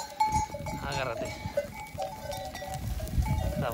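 A flock of Merino ewes bleats over a busy farmyard background with scattered bleats near and far, faint bell clanks and a voice briefly talking.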